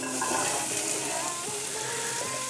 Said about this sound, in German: in den schönen Röstaromen werden wir jetzt unser Wurzelgemüse anbraten